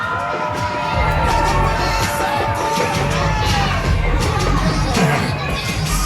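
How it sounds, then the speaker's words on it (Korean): A crowd at an outdoor autumn sports day cheers and shouts, with children's voices among them, in a steady loud roar full of whoops and babble that swells and dips. "골든 팀에 박수 한번 해주시라"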